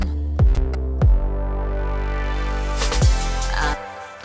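An electronic pop track fill in which the drums drop out: deep sustained bass and synth chords swell and open up brightly, punctuated by a few heavy low hits, then cut off near the end.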